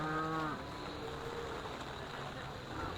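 Aberdeen Angus cattle at the Great Yorkshire Show give one mid-distance moo in torrential rain, a low, droning call lasting about half a second, then steady rain noise and a faint hum.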